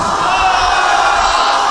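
A large Muslim congregation at a religious gathering chants slogans together, a loud, sustained mass of voices with no break.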